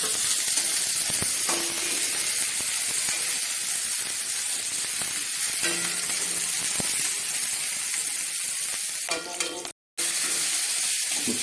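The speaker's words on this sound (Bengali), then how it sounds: "ভাজছি।" Onions frying in a pan for dal makhani give a steady, loud sizzle with occasional stirring scrapes, broken by a brief cut of silence near the end.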